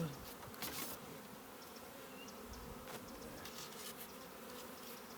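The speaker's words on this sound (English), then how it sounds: "that is a decent swarm" A honeybee swarm in a hive, a dense steady buzz of many bees droning continuously at close range, with a few louder passes near the start.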